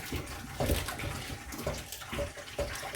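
Water runs steadily from a tap into a sink, with brief splashy shifts as something is rinsed under the stream.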